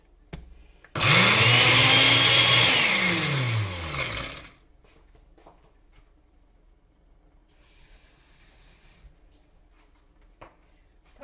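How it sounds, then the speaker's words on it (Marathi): Mixer grinder grinding dry-roasted whole spices such as poppy seeds, black pepper, cloves and cinnamon for a Malvani clam curry masala: a loud motor whir of about three seconds that rises and falls in pitch, then stops, leaving quiet room sound. "तर मी आता ह्याला हे छानपैकी वाटून घेते"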